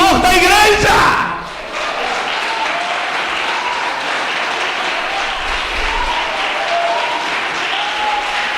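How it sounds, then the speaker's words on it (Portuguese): A church congregation gives loud applause with cheering, opening with shouted voices and then settling into steady dense clapping that carries on throughout. "Como igreja, fique em pé e aplaude ao Senhor da igreja."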